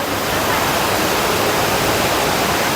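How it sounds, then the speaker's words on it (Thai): Loud, steady rush of falling water at Khlong Lan waterfall in Kamphaeng Phet, Thailand, fills the scene, a constant broadband roar with no pauses, close by. "ที่น้ำตกของลานนะวันนี้"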